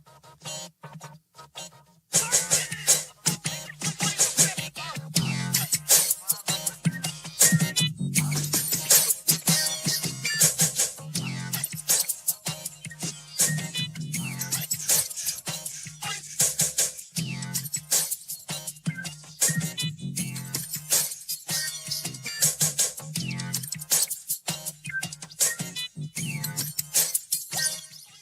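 A dense, loud AI-generated Southern hip hop beat with booming bass and busy percussion plays continuously after a brief quiet start, driving along in a steady groove.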